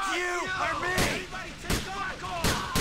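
Pistol shots in GTA 4: The Lost and Damned, three or four loud sharp reports spaced under a second apart over game music and background noise, with talking in the mix.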